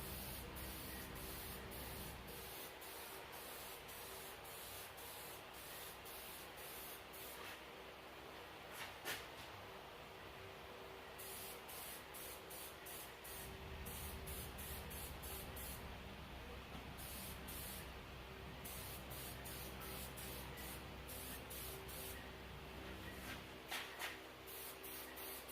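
A second coat of paint is sprayed onto a Warn 9.5ti winch in short and long hissing bursts, with a steady hum running underneath.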